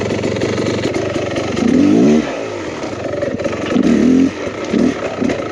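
A 2023 Beta Xtrainer 300 two-stroke enduro motorcycle is ridden, its engine buzzing loudly and close with several sharp revs and throttle surges over a constant rough drone.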